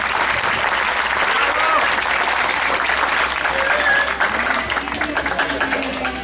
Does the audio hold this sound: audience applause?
yes